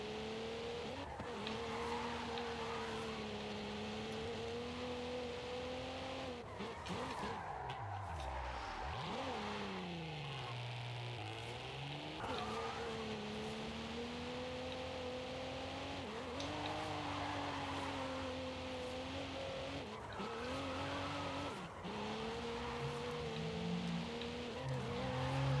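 A Cadillac CT4-V with a manual gearbox drives hard through the corners of Forza Horizon 5, its engine droning steadily and rising and falling with throttle, with tire squeal as it skids, loud and continuous throughout.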